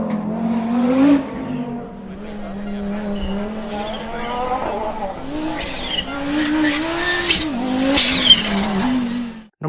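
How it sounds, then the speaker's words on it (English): Audi Sport Quattro S1 E2 Group B rally car from 1985, its engine droning loud and steady with a whining straight-cut gearbox, revs rising and falling and sharp bursts near the end. "Number 3. Audi Sport Quattro S1 E2."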